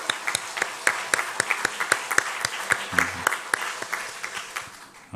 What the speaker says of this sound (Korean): 우리 하나님께 영광의 박수를 한번 올려드렸으면 좋겠습니다.